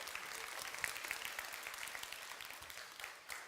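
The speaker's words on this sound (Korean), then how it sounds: "우리 다시 한번 감사의 박수 한번 부탁합시다." A youth church congregation applauds its orchestra, a faint, somewhat distant spread of clapping that carries on evenly before tapering near the end.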